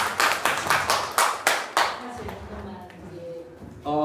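A group at a church seminar claps in a short rhythmic burst of about six beats, then the clapping fades as a voice starts speaking.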